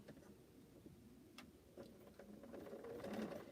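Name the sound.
sewing machine sewing a quarter-inch seam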